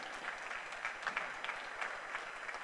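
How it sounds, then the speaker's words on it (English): An audience at a ZF Rane ceremony in Trichy applauds after a vote of thanks, a quiet, distant patter of clapping that holds steady with scattered louder claps. "Please deliver a very big round of applause."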